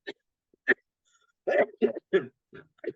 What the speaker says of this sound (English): After you stop coughing